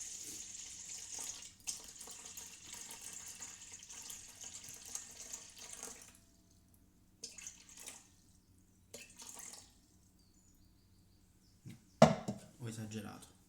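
Water runs steadily from a tap for Neapolitan pizza dough made by hand, then cuts off and returns in short bursts, with a voice talking in the background and a louder clatter near the end.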